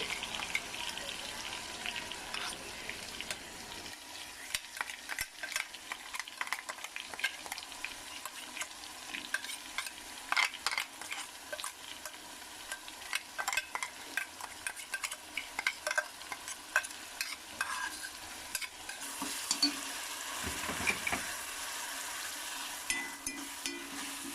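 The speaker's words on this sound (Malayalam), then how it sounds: "നല്ല ചൂടായ വെളിച്ചെണ്ണയിലേക്ക് ഇടണം" Ground coconut chutney paste sizzles and crackles in hot coconut oil for a tapioca-and-chutney meal, with close stirring and scraping breaking into the steady frying.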